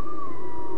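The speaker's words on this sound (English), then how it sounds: "Here's a whale," A recorded whale call from a custom Raspberry Pi sound board: one steady, long tonal moan, loud and continuous over a low rumbling wash, heard alone.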